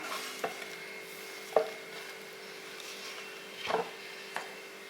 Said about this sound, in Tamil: இப்போ நறுக்கின வெங்காயத்தை இதில் சேர்த்துடலாம்